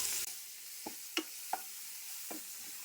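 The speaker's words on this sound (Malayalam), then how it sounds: "ഇതിൻ്റെ ഒരു പച്ച മണം പോണ വരെ നമുക്കൊന്ന് വഴറ്റാം" Crushed ginger and garlic frying in a pan, a faint, even sizzle with four or five soft, spaced-out clicks of a spoon stirring, quiet and close with no speech.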